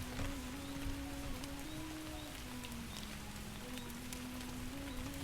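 Steady rain falls across the whole stretch as a dense, even patter, with a faint hum underneath, during a Mordheim tabletop battle session.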